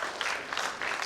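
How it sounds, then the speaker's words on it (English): A ceremony audience gives a round of applause at an induction event; a short, dense burst of clapping fills the space at moderate loudness without speech. "please, with a round of applause."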